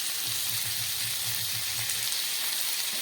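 Steady loud sizzling of vegetables frying in oil in a pan as chopped green chillies go in, a continuous crackling hiss with small rhythmic bubbling pops and no talk.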